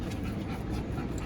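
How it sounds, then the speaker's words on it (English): Dogs pant rapidly and steadily at close range as they are loaded into a car, a breathy continuous huffing with faint shuffling beneath it. "And here come the dogs."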